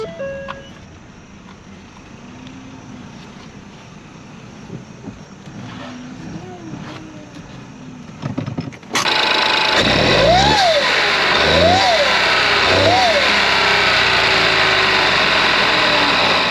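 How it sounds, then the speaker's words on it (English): A Ford Focus 1.0L EcoBoost engine with a failing turbo suddenly roars into loud revving, a rising turbo whine sweeping up and down three times over steady mechanical noise. "when I revved it, this turbo is making noise"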